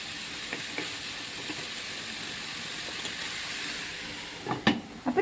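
Steady, dense sizzling of bitter gourd stir-frying in a pan over low heat, with a few clinks and stirring scrapes toward the end, no voices.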